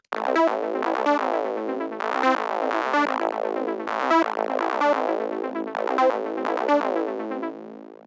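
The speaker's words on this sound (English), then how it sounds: "There's a lead synth and an arpeggio." A bright techno synth lead plays a melody over a rapid repeating arpeggio, rhythmic pulses running steadily throughout with no voices.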